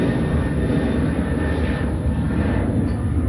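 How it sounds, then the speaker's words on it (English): A very loud airplane flies over near the Mississippi River in Baton Rouge, a steady broad engine roar holding throughout with no speech. "it's actually an airplane right there, very loud airplane."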